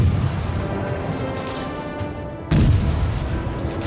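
Cruiser turret gunfire on a Soviet Tier I cruiser, the Orlan, in World of Warships: a deep, rumbling boom with sustained roar, then a second heavy blast strikes sharply midway, loud and close.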